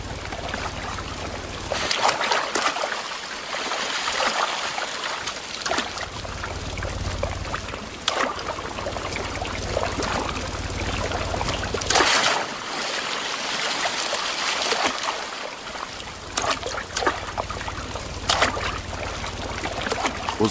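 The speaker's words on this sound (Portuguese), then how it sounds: "Mas na Mata Atlântica, sempre tem um riacho por perto." A stream runs through the Atlantic Forest, a steady broad rush of flowing water with splashing and trickling, constant and moderately loud throughout with no voices.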